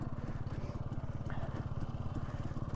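A dirt bike engine drones steadily on a winter trail ride, a continuous mid-low throb with regular pulsing, close by and fairly loud throughout with no pauses.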